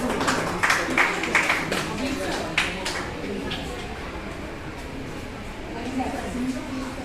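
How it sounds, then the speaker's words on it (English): A crowd claps for students at a school awards ceremony. The applause is steady and moderately loud, with a few sharper bursts near the start, and it fades over several seconds. "Let's have a huge round of applause."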